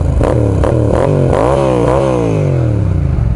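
A Yamaha MT-07 fitted with a ZARD full exhaust revs hard several times, sharp throttle blips rising and falling in pitch before settling into a loud, burbling idle, close by with no talk.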